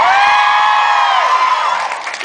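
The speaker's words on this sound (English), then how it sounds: "It's like instant yell and applause." A convention panel audience yells and whoops in a loud, sustained burst of crowd noise that stays strong throughout and tapers slightly at the end.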